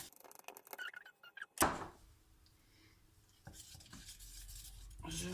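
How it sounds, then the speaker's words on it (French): Linseed oil is added to a pot of flour paint and stirred, with a sharp clunk of the utensil against the pot followed by quiet scraping and swishing stirring sounds, close and fairly soft. "Je rajoute mon huile de lin."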